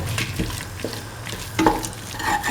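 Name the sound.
bell pepper and scrambled egg sauteing in a pan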